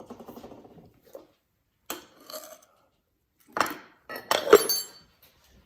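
Metal utensil clinks and scrapes against a pot while butter is stirred, several short bursts separated by quiet gaps, close and moderately loud with no talking.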